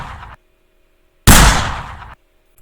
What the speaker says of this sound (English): It will sound like this every time the gun is shot.